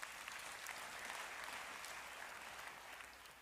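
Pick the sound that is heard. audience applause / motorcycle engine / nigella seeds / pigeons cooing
audience applause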